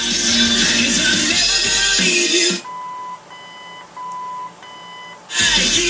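A sequence of clean electronic beeps from an original AM radio in a 1964 Ford Falcon, several short tones at slightly different pitches in a quiet gap between stretches of loud broadband noise.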